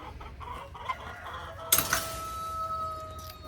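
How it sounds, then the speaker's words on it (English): Chickens cluck softly in the background, then a sharp clatter hits, followed by a faint, drawn-out crow. "I hear y'all. So many roosters"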